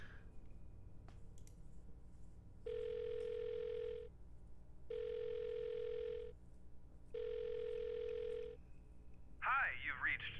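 Telephone ringback tones repeat three times in long, evenly spaced buzzes after a dialing sound during a call in a point-and-click video game, followed by a warbling tone at the end.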